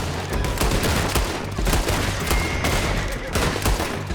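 Rapid gunfire from a Western-style shootout in the video game Red Dead Redemption 2, dense overlapping shots cracking continuously under a steady wash of background noise.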